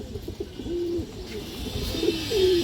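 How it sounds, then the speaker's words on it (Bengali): Male pigeon cooing close by, giving a few soft, low, rolling coos over a steady background hiss and faint ambient noise. "এই যে দেখেন অনেক সুন্দর একটা নর কবুতর"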